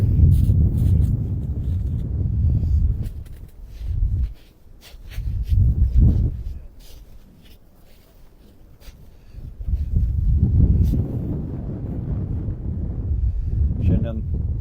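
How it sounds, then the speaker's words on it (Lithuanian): Strong wind gusts across open ice during an ice-fishing trip in Sweden, roaring in waves and buffeting the microphone, easing briefly in the middle before surging again, with a voice talking at times. "Stiprus vėjas pučia, bet tas vėjas nėra šaltas"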